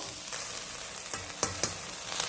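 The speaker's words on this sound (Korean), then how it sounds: "이렇게 물이 없으면 물을 더 쳐가면서 볶아볼게요." Seasoned gondre thistle greens stir-frying in oil over medium heat, with water added as it dries, make a continuous close sizzle broken by a few sharp crackling bursts as the greens are turned.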